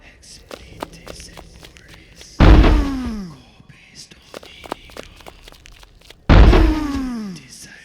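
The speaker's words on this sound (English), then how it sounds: "The door won't give!" A battering ram slams against a stubborn door twice in a dramatized scene, each heavy booming crash several seconds apart and ringing out, with shuffling footsteps and scattered knocks between.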